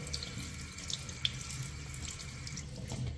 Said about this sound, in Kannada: ಒಮ್ಮೆ ನೀವು ನೀರು ಹಾಕಿಬಿಟ್ರೆ